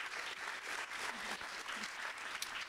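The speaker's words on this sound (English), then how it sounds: "So another round of applause for those two." Audience applause at a festival talk event, a dense, even wash of many hands clapping continuously for a few seconds, filling the room without speech.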